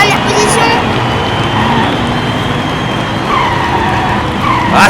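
Diecast miniature race cars, including an Audi, Nissan, Kia and McLaren, speed and drift around a track in a constant loud roar with squealing slides, under excited race commentary.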